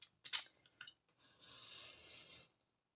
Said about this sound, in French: Donc là, on vient couper tout ce qui passe ici.